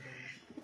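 Pigeon cooing nearby in a household setting, a short soft coo lasting under a second at low volume.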